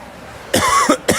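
Hockey commentator coughing at the mic during a Flyers versus Brookings broadcast: two close, harsh coughs and then a third, each short and loud against a quiet background.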